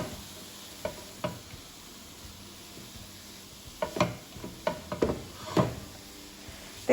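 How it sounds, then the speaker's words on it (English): Green beans frying with coconut powder in a pan: a quiet steady sizzle with scattered scraping and stirring clicks that grow busier partway through, close up and with no talking. "you can fry a little bit after you put the coconut powder to mix well and fry a little bit"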